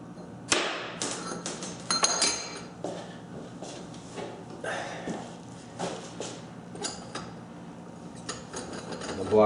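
A block and spacer go onto a South Bend lathe headstock, making a string of sharp metallic clicks, knocks and scraping clatters at irregular intervals, close by in a quiet room.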